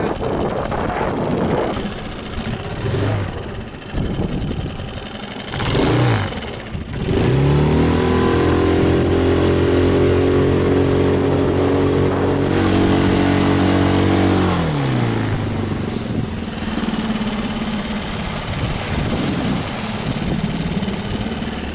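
A repaired Suzuki engine revs during a ride by a river, the pitch rising and holding high for several seconds before dropping back, loud and close with rough ambient noise around it.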